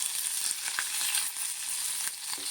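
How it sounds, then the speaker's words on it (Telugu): Garlic and curry leaves fry in hot oil for a tempering, giving a continuous bright sizzle with small pops and crackles, close and steady throughout, with nobody speaking. "తాలింపు అయితే దగ్గర ఉండి చక్కగా దోరగా వేయించుకోవాలి."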